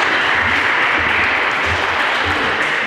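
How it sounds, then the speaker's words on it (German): Members of the Junge Union applaud at a CDU spring reception in Frankenberg, a dense, continuous wash of clapping from a group, loud and steady throughout with a faint low rumble beneath. "Das war das Klatschen der Jungen Union"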